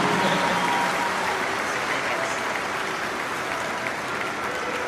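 A large crowd applauding at St. John Arena during an Ohio State football pep rally, broad sustained clapping that fills the space and slowly tapers, with no voices over it.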